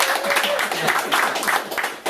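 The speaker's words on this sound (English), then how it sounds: "Can we please give Anna another round of applause?" Brief applause from the audience at an open mic poetry night for a poet who has just read, a few seconds of scattered clapping from a small crowd without speech.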